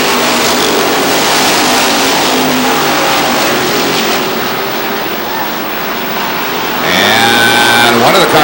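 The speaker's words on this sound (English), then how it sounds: "One of the cars headed into the pits." Race cars at Lee Speedway, New Hampshire, roar past in a loud, continuous engine drone, with a rising pass swelling near the end as one car approaches.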